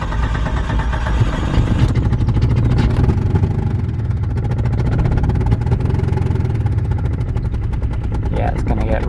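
An engine that is hard to start runs rough and low, a loud close rumble with a rapid uneven chugging pulse and a sputtering rhythm throughout, with a voice speaking over it.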